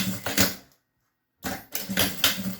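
A sewing machine stitches over a zipper, running in short bursts of rapid mechanical clatter close by, with a clear pause of silence between runs.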